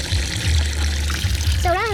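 A small fountain pump pushes water into a pond filter inlet. The flow gives a soft, steady trickle and gurgle close by, with a low rumble underneath and a brief whistly tone near the end.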